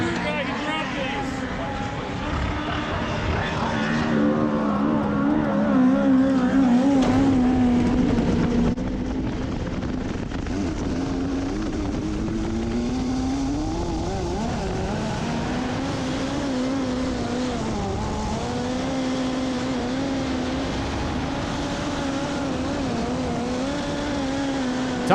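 Midget race car lapping the red clay oval at Bloomington Speedway during a hot lap session, its engine droning and shifting pitch steadily throughout as a track announcer talks over it.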